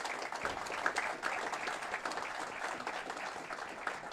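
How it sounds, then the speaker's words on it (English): Crowd applause at a city hall announcement for the Bilter Road Development Project, a moderately distant, continuous patter of many hands clapping. "A round of applause for all the team members who made this happen today."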